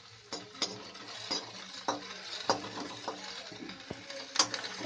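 Garlic, ginger and crushed green chilli frying in a pan for a green tomato dish, a soft steady sizzle under scattered stirring clinks and scrapes of a spoon against the pan.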